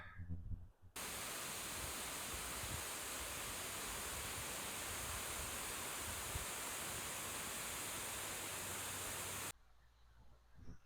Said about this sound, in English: That is for sure one of my favorite waterfalls.